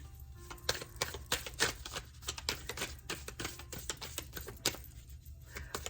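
Tarot cards drawn and shuffled from a deck, a rapid run of dry, crisp papery taps and flicks close by, no talking.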